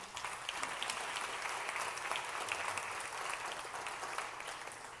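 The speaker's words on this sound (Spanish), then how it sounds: "Dale un aplauso al Señor" A church congregation breaks into steady, dense applause, a continuous crackle of many hands clapping at even strength throughout with no voices on top.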